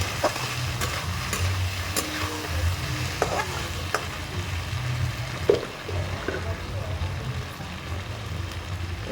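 Chili paste and cumin paste being stirred as they fry in a pan, a steady close sizzle with scraping stirs throughout, while a person talks over it.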